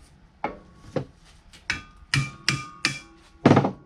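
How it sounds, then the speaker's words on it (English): A hammer strikes metal repeatedly while an axle part is removed from a Mustang 8.8 rear end, about eight sharp ringing blows at an uneven pace, close and loud with no talk. "Hence the hammer."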